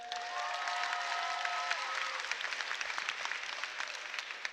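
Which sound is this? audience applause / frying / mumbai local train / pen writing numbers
audience applause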